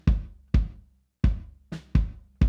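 Recorded bass drum with no compression, struck six times at a loose, uneven pace, each hit a punchy low thump with a bright attack that decays quickly; close and alone, with no voices.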